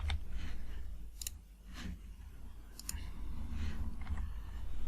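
A computer mouse clicking, several sharp, close clicks spaced out over a few seconds against a low background hum.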